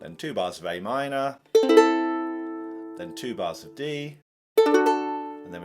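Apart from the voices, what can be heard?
No everyday noise stands out behind the speech.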